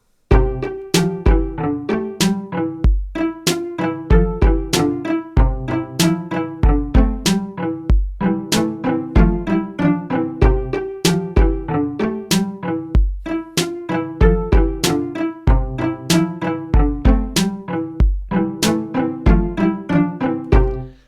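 A bright synthesized melody made in Chrome Music Lab Song Maker loops over a steady electronic drum beat, repeating in short even phrases with crisp hits throughout.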